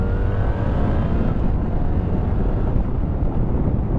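A 2025 BMW R1300RS sports tourer pulls away under steady engine drone, a loud continuous rumble mixed with wind buffeting on the microphone, with no talking.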